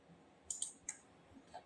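A few quick computer mouse clicks while using Adobe Illustrator, three sharp close taps in fast succession followed by a softer one, faint against quiet room noise.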